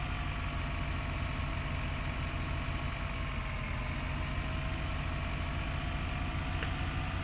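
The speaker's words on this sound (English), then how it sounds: "This tractor can barely do it" Farm tractor engine in a farming game, straining under load with a weight attached: a steady, dense mechanical drone that holds constant throughout, close and unbroken, with no talk.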